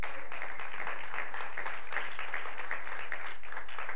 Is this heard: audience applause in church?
yes